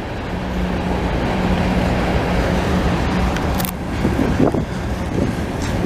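CN freight train with switcher locomotives crossing over Charlevoix Street in Montreal on a windy evening: a continuous loud rumble with steady low engine drone and rolling noise, plus wind buffeting the microphone.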